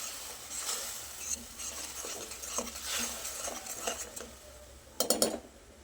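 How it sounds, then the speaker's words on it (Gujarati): Tomato puree being stirred into sautéed onions in a pan for a Gujarati sev tameta shaak, with soft scraping and a low sizzle, plus a cluster of sharper utensil clinks near the end. "હવે ટામેટાની જે પ્યુરી કરીને રાખેલી આપણે એ ઉમેરી દેવાની છે. સરસ મિક્સ કરી લઈશું."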